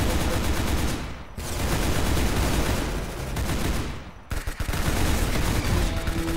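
Rapid machine gun fire in the Roblox game Arsenal, loud, dense bursts of automatic shots that continue almost throughout, with brief gaps and a quieter dip between volleys.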